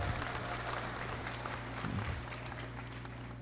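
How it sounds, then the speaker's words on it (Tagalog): An audience at a feast-day vigil mass for Saint Michael the Archangel claps in steady, moderate applause, continuous and somewhat distant with no clear talk. "Palakpak kayo, hindi naman kayo nagpa-follow."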